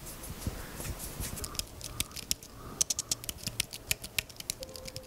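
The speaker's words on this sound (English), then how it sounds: "When typing, the keys feel and sound much closer to a laptop." Typing on a Logitech Bluetooth keyboard for an iPad, a quick run of light, crisp key clicks that grows denser and more regular toward the end, close and fairly quiet, with no speech.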